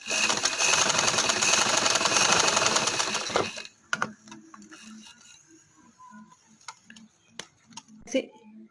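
An old shirt is run through a sewing machine, a dense steady mechanical whir for about three seconds, then stops into scattered clicks and small handling knocks. A voice may be faintly present.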